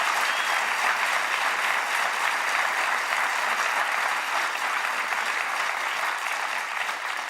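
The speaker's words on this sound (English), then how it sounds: "I can't get used to the clapping" A large audience applauds steadily and loudly throughout, a dense unbroken wash of clapping with no pauses or voices rising above it.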